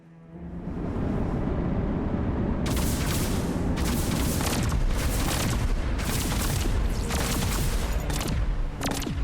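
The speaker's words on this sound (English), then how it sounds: "Let's watch the missile turrets before I sell them." Missile turrets firing in the space station game Outworld Station, a dense continuous barrage of booming launches and explosions under a constant rumble, loud and sustained with rapid bursts.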